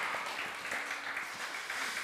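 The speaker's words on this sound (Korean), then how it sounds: "우리 최강 집사님을 향해서는 축복을 하나님께 영광의 박수로 합시다" A church congregation at a Wednesday worship service gives a round of applause, a soft, steady, continuous patter of many hands heard from a distance with no talk.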